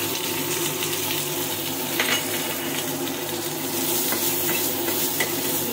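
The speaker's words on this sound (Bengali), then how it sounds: "অল্প করে একটু নাড়াচাড়া করে নিই।" Chilli, turmeric and salt fry in a pan while being stirred, making a constant bubbling sizzle with intermittent scraping and clinking of the spoon, close and even throughout.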